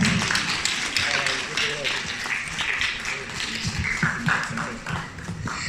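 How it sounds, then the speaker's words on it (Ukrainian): Audience applause after a children's record announcement at a live event honoring a 12-year-old actress, dense sustained clapping filling the room, moderately loud and steady throughout, with some crowd chatter mixed in. "Ваші оплески."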